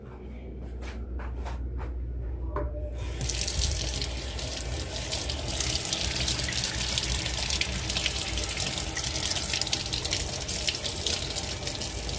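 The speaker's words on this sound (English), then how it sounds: "now that I've rinsed off my spoon" A spoon gets rinsed under a kitchen tap. A few faint clinks come first, then the water turns on into a steady, loud rushing stream that runs on without a break.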